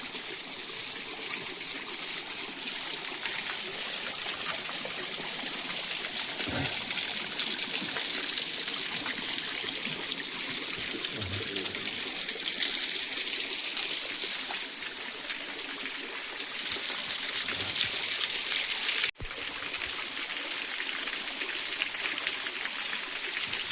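Clear water streams steadily down a dry, parched hillside, a continuous loud rushing trickle with no voices, holding nearly constant throughout.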